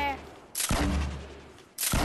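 Rapid bursts of gunfire in a shooter video game hit loud and close in two heavy volleys, with a sustained rattle of shots between them.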